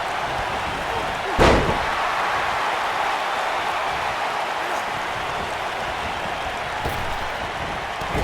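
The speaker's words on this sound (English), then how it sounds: "Oh, what a slam." A wrestler hits the mat with one heavy slam early on in a WWE 2K19 Extreme Rules match between Jey Uso and Jimmy Uso. A single loud thud rises out of steady crowd noise, and a lighter impact follows later.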